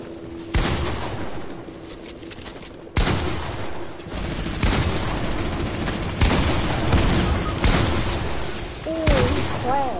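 Gunfire in a video game comes as several loud, dense bursts of shots and booms spread through the clip, with a voice talking briefly over the game sound.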